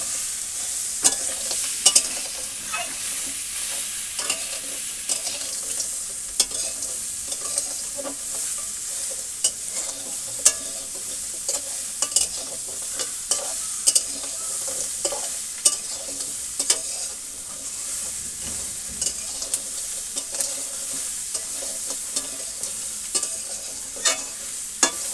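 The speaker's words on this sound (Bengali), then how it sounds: "কাঁকড়া কষা হচ্ছে।" Crab being stir-fried in a pan in a village kitchen, a steady sizzle with continual scraping and stirring clatter, close and loud throughout with no talking.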